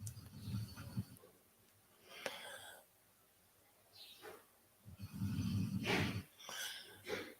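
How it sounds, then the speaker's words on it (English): Diego, a relaxed dog, snores in the background in faint, irregular rasping breaths with snorting bursts, some louder and rougher than others, spaced by quiet pauses. "my dog laid down and started snoring"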